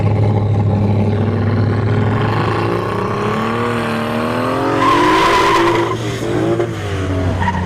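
An Oldsmobile Cutlass at a drag strip test-and-tune session makes a loud engine roar with rising and falling harmonic tones as it revs and pulls away, and a brief tire squeal mid-run.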